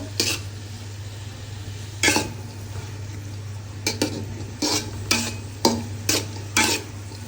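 Onion frying in oil for biryani is stirred in a pan, a low steady hum under the faint cooking with a handful of sharp scraping strokes, sparse at first and then coming in a quicker rhythm near the end.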